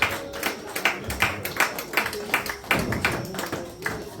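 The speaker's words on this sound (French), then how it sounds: "Si nous pouvons l'encourager par nos acclamations." Guests at an evening wedding celebration clap in an irregular rhythm, sharp hand claps repeating over a noisy room with voices murmuring underneath.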